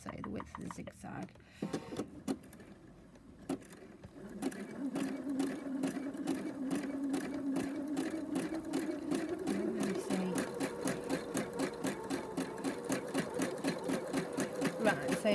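A sewing machine running free-motion zigzag stitching starts after a few quiet seconds and keeps a fast, rhythmic mechanical chatter close by, while a person talks over the sound.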